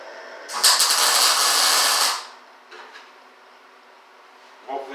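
Tack welding on an inch-and-a-quarter exhaust pipe for a 1955 gasser build gives a loud, crackling buzz of about one and a half seconds, then a brief fainter sizzle and a short burst at the end.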